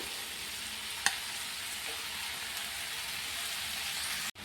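Chopped spinach (palak) and tomato frying in a hot pan, a steady bright sizzle throughout with a single sharp stir-clatter early on and a brief scrape near the end, no voices.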